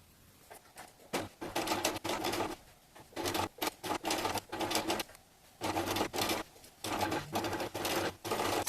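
Sewing machine stitching fabric and zipper tape for a zipper pouch, in several rapid rattling bursts of a second or so each, separated by short pauses, close and clear.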